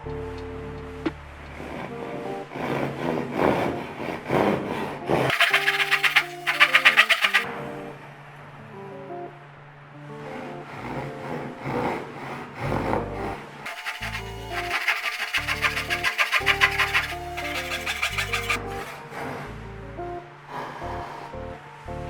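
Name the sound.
cross-cut hand saw cutting wood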